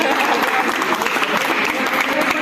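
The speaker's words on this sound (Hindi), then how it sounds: "पंडित जी के लिए ताली बजा दिया जाए।" Wedding guests applauding the priest after the ceremony, a dense burst of close crowd clapping that fills the whole moment without letting up.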